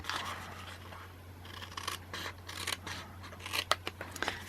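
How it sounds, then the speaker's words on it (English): Scissors snipping through paper while trimming a Stampin' Up! earring jewellery box, a close, quiet series of crisp cuts and rustles in an irregular rhythm over a faint low hum, with no talking. "And then I'm going to cut along the sides here."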